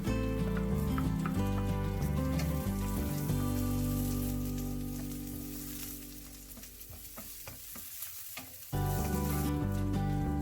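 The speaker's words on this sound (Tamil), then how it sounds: "இப்போ பெரிய சைஸாக கட் பண்ணி வச்சுருக்க கொடை மிளகாவை இதில் சேர்த்து கொஞ்சமாக வதக்கிக்கலாம்." Capsicum cut into large pieces and onions sauté in a hot pan, giving a steady loud sizzle with stirring, the frying noise dipping slightly midway then surging back.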